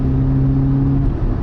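A Volkswagen Polo GTI's turbocharged engine hums steadily with a low, sustained drone while accelerating out of corners, close and continuous, without any talking.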